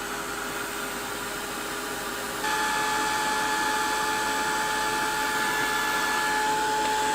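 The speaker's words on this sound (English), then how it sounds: "I like to get my heat gun nice and hot" A heat gun blasts a steady, loud whooshing hiss with a faint tonal whine while heating embossing powder on a Christmas card, its airflow jumping slightly louder partway through and running continuously with no talking.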